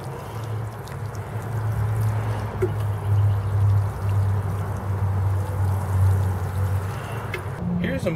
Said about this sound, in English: We're gonna water this rose bush.